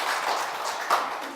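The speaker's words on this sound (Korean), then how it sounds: "박수 한번 주시죠." A lecture audience of professors breaks into brief applause, a dense wash of many hands clapping at once that holds steady for just over a second.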